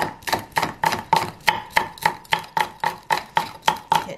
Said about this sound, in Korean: 저는 된장 끓일 때 고추나 대파 같은 거를요 좀 잘게 써는 편입니다.